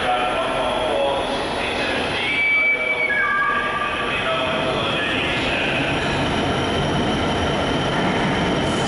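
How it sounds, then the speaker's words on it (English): A Class 66 freight train rolls slowly past at Preston station, a close continuous rumble of wagons with squealing wheel tones and metallic screeches over the steady roar. "freight train. Class 66 is making its way past"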